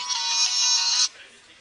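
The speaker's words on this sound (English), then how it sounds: "Oh, my phone is ringing." A mobile phone ringtone sounds close and loud as a bright, steady electronic tone lasting about a second before cutting off, followed by faint room noise.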